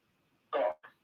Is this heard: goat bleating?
no